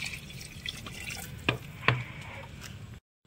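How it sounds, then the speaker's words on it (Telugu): Water being poured into a pot for rice at an outdoor night campsite, a soft steady splashing with two brief louder drips, then it stops abruptly. "2 కప్పులు అయితే వాటర్ పోసుకుంటాము"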